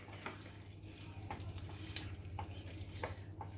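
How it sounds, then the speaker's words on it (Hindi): Palak chicken sizzles steadily in a pan, with a spoon scraping through it every second or so in soft, close stirring strokes over a low hum. "देखिए इसे चलाते हुए हम फिर से अच्छे से और थोड़ा देर भून लेते हैं।"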